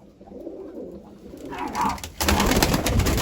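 Pigeons cooing softly in low, rolling murmurs, followed by a louder burst of rustling or flapping noise nearby.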